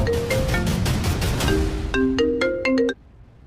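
A phone ringtone plays a bright, melodic run of repeated electronic notes, loud and close, during a business meeting, then cuts off abruptly.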